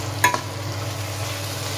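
Carrots and beans stirred in a hot pan, a couple of quick scraping clinks of the utensil over a steady close sizzle of frying.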